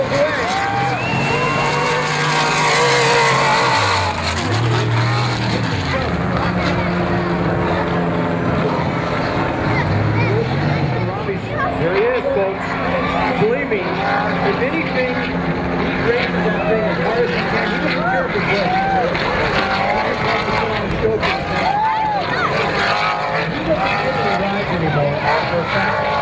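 Off-road race trucks roar as they accelerate off the line at the start of the 2008 SCORE Laughlin Desert Challenge, a loud sustained engine drone throughout with a commentator talking over it.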